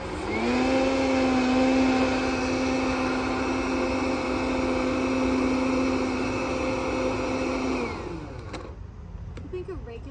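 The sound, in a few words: blender blending carrot top and pepita pesto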